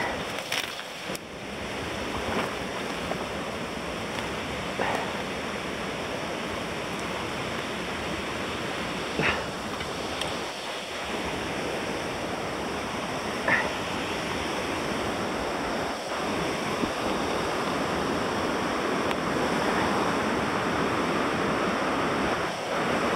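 The Louro river in spate near a sawmill, carrying a lot of water, roars as a steady, broad rush of flowing water, close and continuous with no pauses.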